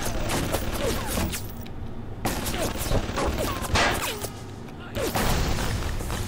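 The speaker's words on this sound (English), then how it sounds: "it's a flippin' turret" Automated turret gunfire in the video game BioShock, rattling bursts of shots broken by short pauses, with clanking mechanical sounds and a voice talking over it.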